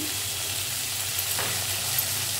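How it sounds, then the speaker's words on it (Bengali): Chopped onion with salt frying in oil in a pan, a steady close hiss of sizzling with a faint stir partway through and no voices. "এবার এটাকে একটু ভেজে নেব।"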